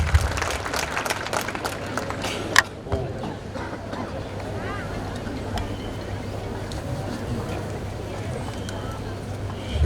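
An audience at a college event claps to welcome Governor Acharya Devvrat, a diffuse patter of applause heard at a moderate distance with murmuring voices and a few louder claps and knocks.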